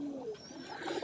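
Fancy pigeons cooing at a large pigeon breeding farm, soft low throaty coos from nearby birds with faint background chatter of other birds, no talk.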